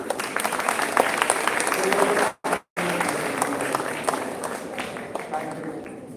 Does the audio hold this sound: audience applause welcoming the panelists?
yes